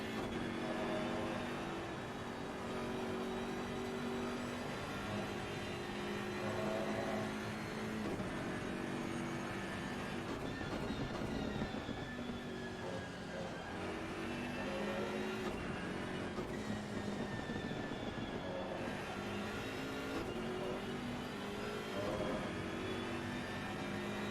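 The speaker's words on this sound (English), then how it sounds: "Just hear how early these guys are getting on the throttle." Race cars in Assetto Corsa Competizione at the Nurburgring carousel: a steady, loud engine drone with layered cars revving and accelerating hard on throttle, continuous throughout and with no talk.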